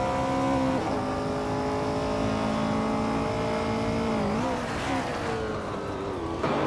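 Several race cars in a racing video game pull away from the grid at the Mugello Short circuit, one a classic 1971 Nissan Skyline 2000 GTR, engines droning and rising in pitch together with loud, steady revving.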